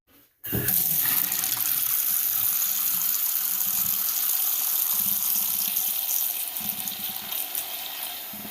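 Water rushes steadily through freshly installed tankless water heater plumbing, a strong continuous hiss that starts abruptly after a brief silence and keeps flowing close up with no voices.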